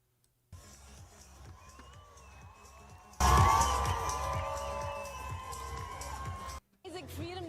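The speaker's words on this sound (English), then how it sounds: "Iranians in and outside are cheering." Crowd of Iranians cheering plays back from a video, a steady roar of voices that surges louder midway, with shouts and whoops, then cuts off abruptly near the end.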